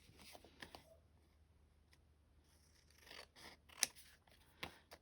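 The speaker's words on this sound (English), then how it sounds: "what I'm going to do next is trim them up again, because my cutting is so good" Scissors trim small fabric pocket tags for a journal, heard as a few faint, crisp snips and light paper-like scrapes spread across a quiet background.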